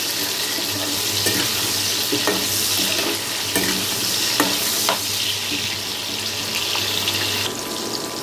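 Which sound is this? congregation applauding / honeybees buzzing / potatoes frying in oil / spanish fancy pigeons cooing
potatoes frying in oil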